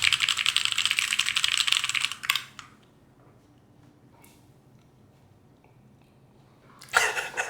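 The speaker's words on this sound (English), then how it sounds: "How does my typing sound?" Rapid computer keyboard typing, close and dense for about two seconds, then a quiet pause with faint room noise before another loud burst of keystrokes near the end.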